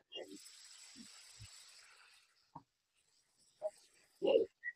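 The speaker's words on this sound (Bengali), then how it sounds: "এই টমেটো কুচিটা আমি তেলেতে দিয়ে দেবো" Chopped tomato hits hot oil for a katla fish tel jhal, giving a faint, close hiss that fades over about two seconds, followed by brief quiet voice fragments and small kitchen knocks.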